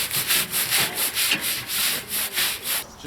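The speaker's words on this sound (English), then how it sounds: "And then let's just give it a scrub down." Rhythmic back-and-forth scrubbing of a surface with a stiff brush while cleaning with a Karcher K4 pressure washer, close and loud, a quick regular rasping stroke about every third of a second.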